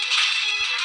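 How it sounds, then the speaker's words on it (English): A phone ringtone plays as a brief, continuous bright electronic tone under a second long, fairly loud and steady with no talking over it. "sorry if you hear any sound, it's my phone"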